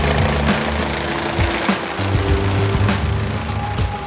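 A helicopter flies overhead while police attack protesting teachers in Oaxaca in 2006, its rotor making a steady loud droning roar that runs throughout with little change.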